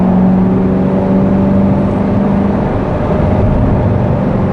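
A C7 Corvette Z51 cruises on a road with its engine and exhaust in a low, steady hum and little throttle, a continuous near drone with no voices.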